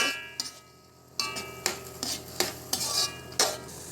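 A spoon scraping and stirring cabbage with chili paste in a pan for Malaysian mamak-style mee goreng, about six or seven crisp strokes in an uneven rhythm over a faint background sizzle, close and alone.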